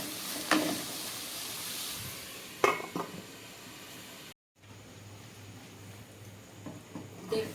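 Mixed vegetables with chillies frying in a pan, soft sizzle underneath occasional scrapes and clinks of a stirring utensil, close by, with a brief dropout midway and no talking.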